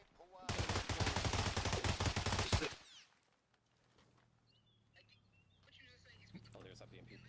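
Gunfire in the Arma military video game: a loud, rapid automatic burst lasting a few seconds, then quiet with faint distant game sounds afterward.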